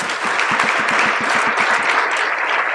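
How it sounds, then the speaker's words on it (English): Hearty audience applause for a wrestling official at a hall of fame testimonial, steady rapid clapping from many hands filling the room, close and sustained throughout. "Officials don't get clapped for very often. Stand up. Just give a big hand."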